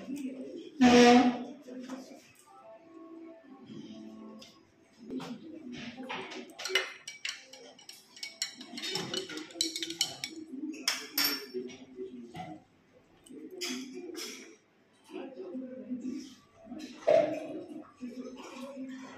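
A spoon stirs chia seeds into hot water, making light, scattered clinks and taps against the container, close but faint, with a person talking over much of it.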